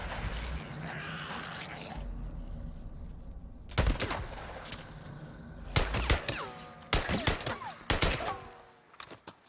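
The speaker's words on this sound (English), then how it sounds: "See the noise of the bullets as well when they twang off the rocks" Gunfire in Days Gone with bullets twanging and ricocheting off rocks: loud close bursts of shots, some with whining, bending ricochet tails, spread over several seconds with quieter rumbling ambience between.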